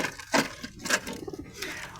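Pigeons cooing softly inside a wooden box kept for pairing, a few low, close, brief coos over quiet rustling.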